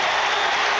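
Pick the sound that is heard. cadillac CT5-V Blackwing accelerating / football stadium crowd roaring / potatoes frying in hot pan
football stadium crowd roaring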